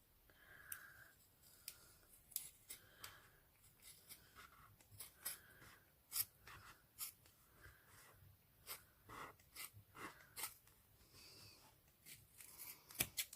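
Scissors cut through faux leather in a run of short crisp snips and rustles, close and quiet, with uneven pauses between cuts.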